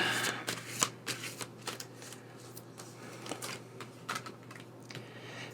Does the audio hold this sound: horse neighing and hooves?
no